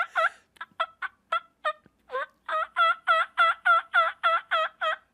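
A hand-operated turkey call mimics a flock of wild turkeys gobbling: a few short separate yelps, then a loud, steady run of about ten rapid, warbling gobble bursts, close up with no voices.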